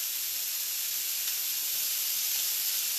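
Thick bacon frying in a pan gives off a loud, steady, unbroken sizzle, a dense hiss with no pauses and no voices.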